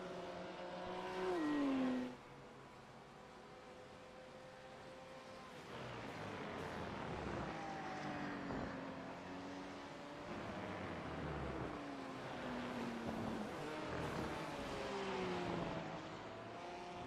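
Audi race cars in a racing video game whine at mid distance as one heads into the pit lane, engine pitch repeatedly rising and falling through gear changes with a brief louder burst early on.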